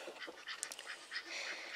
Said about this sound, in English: But I really like the name Chicken for a duck.